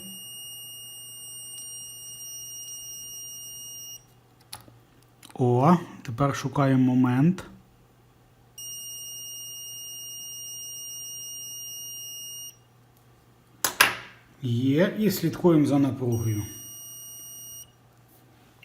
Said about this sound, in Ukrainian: Залишилось настроїти платку зібрану, щоб воно не пищало при потрібній напрузі